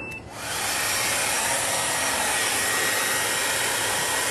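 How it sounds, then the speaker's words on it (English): A hair dryer plugged into a portable power station's AC outlet switches on after a brief quiet moment, then runs as a loud, steady broadband whoosh with no talking. "then we're gonna turn the hair dryer on."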